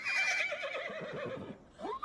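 A horse neighs in a film scene, a loud falling whinny that lasts most of the moment, followed by a short second call at the end and no voices.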